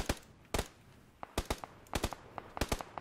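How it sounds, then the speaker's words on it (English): Sniper rifle shots in the PUBG battle royale game crack out as sharp, loud reports, a few spaced bursts with fainter echoing pops between them, no talk. "I'm getting sniped."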